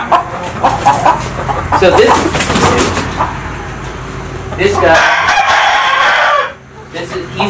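A red Dorking rooster crows amid clucking chickens at a poultry event, with people talking over the farmyard noise.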